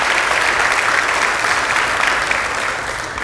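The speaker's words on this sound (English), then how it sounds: "can we give a round of applause for the spouses and the children" A church congregation applauding for service members' spouses and children, loud, full and sustained clapping that holds steady and eases slightly toward the end, with no talking over it.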